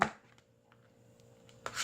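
A knife strikes a cutting board while slicing chili peppers for a green onion pancake: a sharp chop at the start and another near the end, with a low, quiet hum in between.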